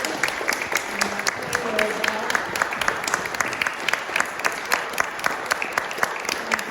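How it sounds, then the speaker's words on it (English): At the Monterey Museum of Art, an audience applauds high school players after a Tanabata story performance, with steady, evenly paced clapping that carries on for several seconds at moderate loudness in a room. "please give a round of applause to Monterey High School players"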